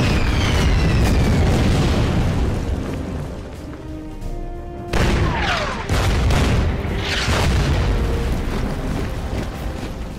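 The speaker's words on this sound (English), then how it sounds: "Oh, that's my artillery piece." An artillery piece firing in the wargame Order of Battle Pacific, heavy booming blasts and dense rumbling battle noise throughout, with sharper cracks and whistling shells in the middle.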